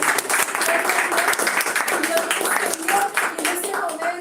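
Congregation clapping hands during a Spanish-language Sunday church service about family, a dense continuous patter of claps with a voice carrying over it throughout.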